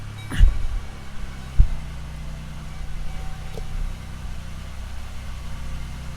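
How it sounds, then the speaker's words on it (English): An old, cheap car with a 3.1 engine and a new battery starts up, with two short low thumps, then settles into a steady, quiet, low idle. "It does start right up. I don't want to leave it running too long"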